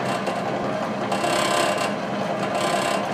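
A Mannesmann benchtop drill press with its original chuck, running below full speed, cuts into wood with a brad point bit, giving a steady close rasping, grinding whir that holds throughout with slight swells.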